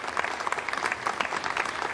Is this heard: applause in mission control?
yes